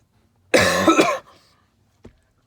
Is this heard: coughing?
yes